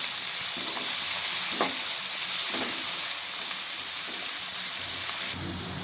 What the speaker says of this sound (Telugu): ఉల్లిపాయలు పచ్చిమిరకాయలు దూరగా వేగేయండి.